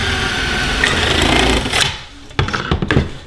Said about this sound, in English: With aluminium, you can drill quite slowly.